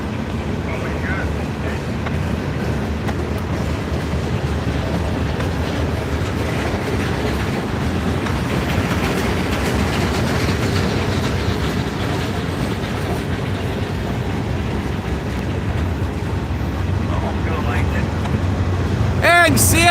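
A CSX freight train rolls past trackside, a loud continuous rumble and rattle of cars on the rails with wind buffeting the microphone, and a higher whistle or horn tone near the end.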